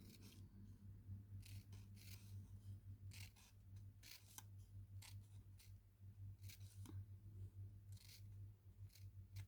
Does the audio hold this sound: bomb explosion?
no